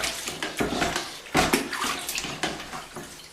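A plastering mixing paddle, coated in goo, is swirled and rinsed in a bucket of water, giving a run of close, splashy sloshing bursts with no talk.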